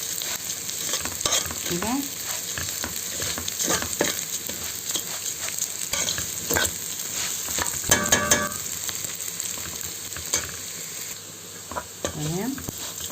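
Pieces of meat and chicken sizzle steadily in a hot pan while a spoon scrapes and turns them at a slow, irregular pace, with a voice speaking briefly over the frying.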